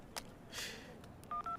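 A telephone number is dialed on a phone, heard as a few short, faint keypad tones near the end after some soft background sounds.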